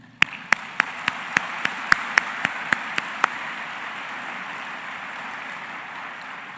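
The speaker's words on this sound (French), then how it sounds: "Merci 1000 fois en une salve d'applaudissements." Broad applause from the audience at a medical faculty graduation ceremony in Haiti, opening with about ten sharp, evenly spaced claps before settling into a steady, moderately loud wash of clapping that continues to the end.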